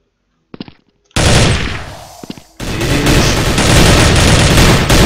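Machine gun fire in the shooter video game Blood Strike, a few quick shots followed by loud sustained automatic bursts filling the rest of the stretch.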